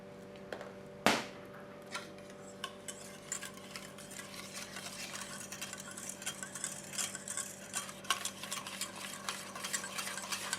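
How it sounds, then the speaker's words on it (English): Gentle stirring of a thickening polymer gel as neutralizing agent is added, soft irregular scraping and clinking in a container over a steady hum, with one sharper tap near the start. "And you can see I'm stirring quite gently now."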